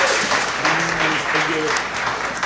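A concert audience applauds during an honoring ceremony at a living legends concert, a sustained wash of clapping with voices talking and calling out underneath.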